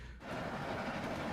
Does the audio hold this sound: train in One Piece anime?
yes